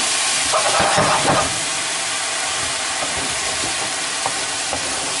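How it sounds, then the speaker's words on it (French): White wine hits a hot chicken pan, sizzling and hissing steadily, with a louder burst of crackle and stirring at the start that settles into a constant frying hiss. "Donc j'ai déglacé"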